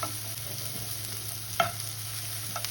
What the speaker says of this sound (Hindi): अब इसमें मैंने काजू डालने लगी, इनको भी फ्राई करेंगे।